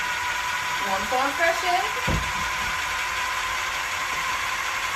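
A mixer motor runs on low while mixing thick pasta dough for butternut squash ravioli, giving a steady, even hum throughout, with a voice speaking briefly over it.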